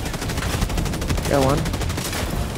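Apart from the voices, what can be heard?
turret gunfire in video game Helldivers 2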